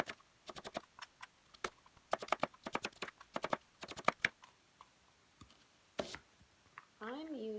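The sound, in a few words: knife slicing onion on cutting board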